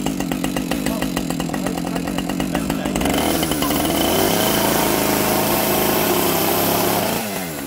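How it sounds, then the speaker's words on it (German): Chainsaw cutting through styrofoam insulation boards during a basement renovation, running steadily and loudly up close with a rapid rhythmic chatter at first, then a smoother sustained buzz before it eases off at the end. "Der Kettensäge hat schon ganz gut funktioniert, wenn man, sag mal, Carving machen müsste an die Innenseite von den Platten"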